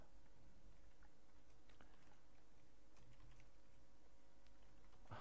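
Code being typed on a computer keyboard: soft, quiet, irregular key clicks running steadily over a faint background hum, with no talking.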